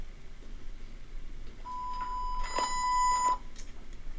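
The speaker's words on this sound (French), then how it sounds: "écoutez les bips au début." Sync beeps at the start of a virtual choir recording: a clear electronic tone sounds, then a brief overlapping burst of beeps, over faint background hiss.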